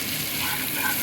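Vegetables fry in a pan for a pumpkin and soybean niramish chhakka, seasoned with turmeric and salt and stirred, giving a steady close hiss of sizzling with no pauses.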